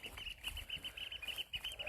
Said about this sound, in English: Some kind of loud squeaking birds around here somewhere.